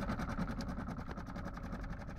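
A Honda outboard boat engine idles in a low, steady, pulsing rumble, fairly quiet and close, with no talking over it.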